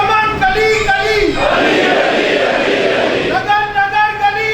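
At a Muharram majlis on the 8th of Muharram, a single voice calls out a chanted slogan. A large crowd answers with a loud, roaring collective shout that swells for about two seconds, and then the lead voice chants again.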